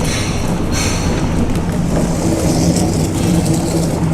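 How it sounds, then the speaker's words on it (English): A Pride Mobility ZT10 zero-turn mobility scooter runs at speed, giving a steady, fairly loud electric motor whir with rolling wheel and surface noise throughout and no speech. "This scooter moves pretty fast."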